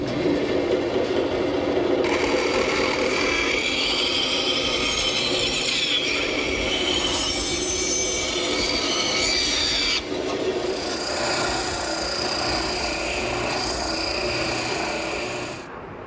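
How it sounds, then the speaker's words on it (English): Bandsaw roughing out curved corbels from 1-inch thick white oak, a steady loud rasping cut running continuously with a brief pause midway before resuming. "I'll rough them out at the bandsaw"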